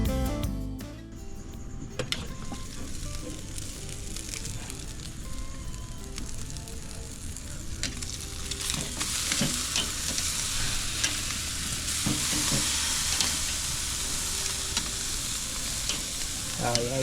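A tomahawk steak and peppers sear on a hot grill, a loud continuous sizzle and crackle with occasional sharp pops and ticks, swelling slightly louder partway through, with no talking.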